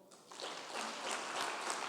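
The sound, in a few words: congregation applause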